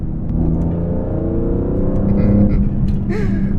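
A BMW E46 M3 CSL conversion with a carbon fiber intake revs up to about 3,500 RPM, its loud, steady engine note climbing and falling as the throttle blips, with a voice speaking briefly near the end.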